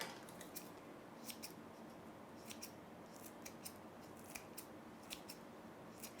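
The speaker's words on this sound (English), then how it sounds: "I'm just going to take the leaves and I'm going to chop it inside" Scissors snip through fresh fenugreek (methi) leaves in a quick series of crisp, light cuts, close up and fairly quiet, with no talking.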